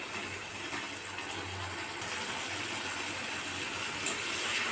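A pot on a gas stove bubbles at a low simmer, giving a soft, steady watery burble and hiss close by that swells slightly toward the end.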